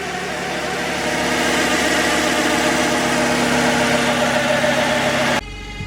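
A 2011 Toyota RAV4 with a failing transmission idles steadily, a continuous engine drone with a thin sustained whine riding over it, near and unchanging for about five seconds before cutting off abruptly.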